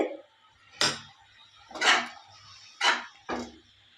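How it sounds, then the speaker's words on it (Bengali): A lid lifted off a cooking pot and pineapple chutney stirred with a utensil, giving four distinct clanks and scrapes against the pot spaced about a second apart, fairly close and quiet, with no talking. "এবার আমি ঢাকনা খুলে একটু নেড়ে চেড়ে"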